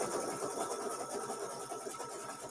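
An embroidery machine stitches a Kimberbell June strawberries mini-quilt block, running a continuous fast whirring hum with a rapid needle pulse, steady and close, no voices.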